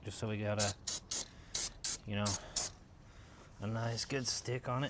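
Brake cleaner is sprayed onto a truck frame rail in short hissing bursts between stretches of someone talking up close.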